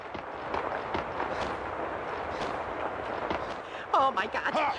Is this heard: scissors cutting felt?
no